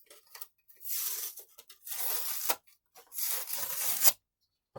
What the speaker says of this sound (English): let me take the price off of there